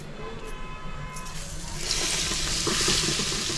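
Bread paneer sandwiches frying in hot oil give a steady sizzle that grows louder and brighter partway through, with faint stirring noises and no talk.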